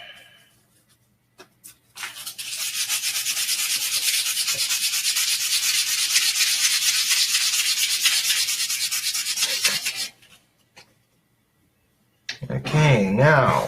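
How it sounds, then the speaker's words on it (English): Sandpaper rubs steadily and briskly against a workpiece for about eight seconds, a close, continuous scratchy hiss, with brief handling noises before and after. "I don't need the super rough sandpaper right now."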